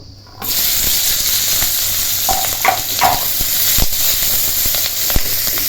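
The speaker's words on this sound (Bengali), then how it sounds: "কড়াইতে তেল গরম হয়ে গেছে আগে লঙ্কাগুলো ভেজে নেব" Spice-stuffed green chilies fry in hot oil in a wok, a loud, steady sizzle that starts abruptly and carries on with occasional pops and spatters.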